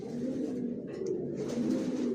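Johnson-line racing homing pigeons cooing in their loft, low rolling coos repeating close by over a quiet background, with faint bird movement in between.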